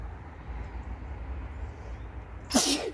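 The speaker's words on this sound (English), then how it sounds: "I'm going to sneeze." A single short sneeze bursts out sharply at the end, close and loud after a few seconds of quiet outdoor background hum in a vegetable garden.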